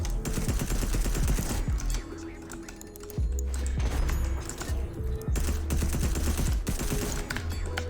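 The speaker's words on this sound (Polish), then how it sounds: "Teraz mamy pistolet maszynowy." Rapid submachine gun bursts in a shooting video game, loud repeated rattling volleys with short breaks, mixed with keyboard clatter.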